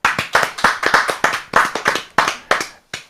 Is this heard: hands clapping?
yes